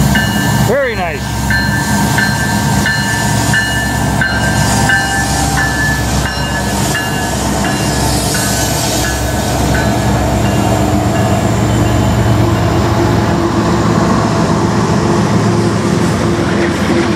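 A long manifest freight train hauled by CN, Kansas City Southern and BNSF locomotives rolls past close by, a loud steady rumble and clatter of wagons, with a brief horn-like tone early and someone talking over it.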